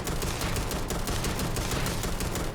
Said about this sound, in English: I love the fire rate on it. It fires real quick.